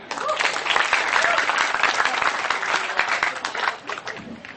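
An audience bursts into applause at a community gathering, loud dense clapping with crowd noise that swells and then thins out toward the end.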